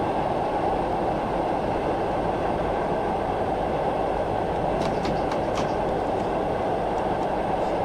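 A train rolling steadily on rails in Train Sim 2020 on the Portsmouth Direct Line, a constant loud rumble with faint clicking of wheels near the end, no voices.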